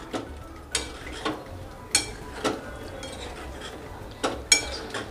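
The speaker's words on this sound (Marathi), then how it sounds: "राइस बॉल्स आता मी ह्या ग्रेव्हीमध्ये टाकते आणि पूर्ण असे परतून घेते" Fried rice balls being sautéed in Manchurian gravy in a pan, with a soft ongoing sizzle broken by repeated spoon scrapes and clinks against the pan every second or so.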